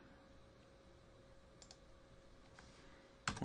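Quiet computer mouse clicks, a few soft isolated taps against a faint steady hum, followed by a louder cluster of clicks at the very end.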